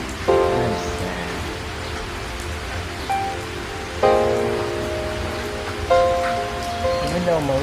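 Steady rain patters on a surface with a broadband hiss throughout, while tonal musical notes and soft effects sit on top.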